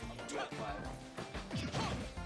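A Super Smash Bros. Ultimate up smash attack connects with a sharp crash and thwack, part of a busy stream of game impacts heard under ongoing talk.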